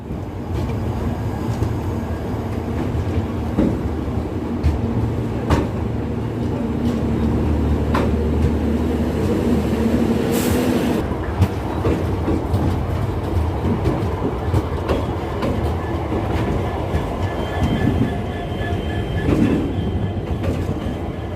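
Barak Brahmaputra Express, the Tinsukia–Silchar train, pulling out of Dibrugarh railway station, heard from on board: continuous rumble with rhythmic wheel clatter, occasional squeals and a brief hiss, with faint voices in the background.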